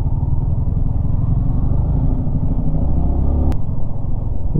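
Motorcycles ride through heavily congested traffic on the Jammu to Srinagar route, with a continuous loud low engine rumble and road noise close by and one sharp click near the end, with no talk.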